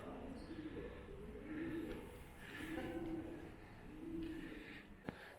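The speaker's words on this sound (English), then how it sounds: "there's a few pigeons that have made their home in this roundhouse." Soft, repeated low cooing of pigeons echoes faintly inside a historic railway roundhouse at Junee Railway Station, New South Wales, in slow rhythmic phrases, with a sharp click near the end.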